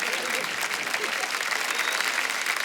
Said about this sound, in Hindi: जोरदार तालियां हो जाए अली ब्रदर्स के लिए